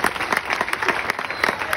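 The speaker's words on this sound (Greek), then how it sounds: "Απέρα χειροκρότημα, ρε παιδιά," A live audience at a Delfinario venue show claps in a dense, steady burst of applause, close and fairly loud, with no clear talking over it.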